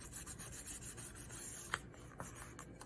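Paper being smoothed down by hand over glue on a handmade finger labyrinth, a soft continuous rubbing and rasping with a few brief louder strokes, close and quiet.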